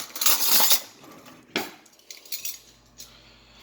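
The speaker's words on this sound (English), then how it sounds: "Let me get some clean spoons." Clean metal spoons being handled in a kitchen: a burst of clattering and jingling, then a few sharp separate clinks and taps, close and fairly quiet, with no voices.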